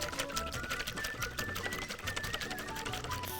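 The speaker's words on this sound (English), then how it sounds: "Give it a healthy whisk." Three farm fresh eggs are whisked briskly in a bowl, a fast steady clatter of rapid metallic taps, close and fairly quiet throughout.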